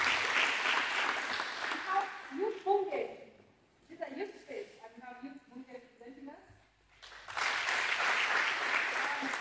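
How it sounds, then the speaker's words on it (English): Audience at a competition event clapping for arriving partner organisations, with bursts of applause at the start and end and a speaking voice in the quieter middle stretch. "Let's clap for them."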